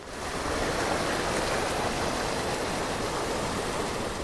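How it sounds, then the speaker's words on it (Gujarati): Rain-fed floodwater rushes off farm fields after a monsoon cloudburst in Dwarka district villages, a loud, steady, broadband roar of churning water that holds constant throughout with no voices. "ખેતરમાંથી વરસાદી પાણીનો ધસમસતો પ્રવાહ વહેતો જોવા મળ્યો"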